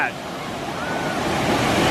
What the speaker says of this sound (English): Watch the amount of current pull, or the amount of suction that goes on as that water tries to rush back in after it pushes that big wave out.